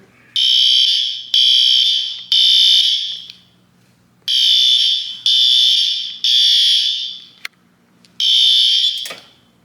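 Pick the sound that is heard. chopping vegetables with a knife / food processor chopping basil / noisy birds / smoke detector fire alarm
smoke detector fire alarm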